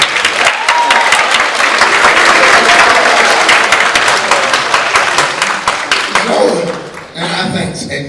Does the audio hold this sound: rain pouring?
no